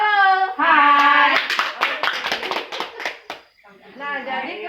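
An audience of mothers at a family meeting claps hands in a short burst of quick, uneven claps between spoken call-and-response greetings by voices.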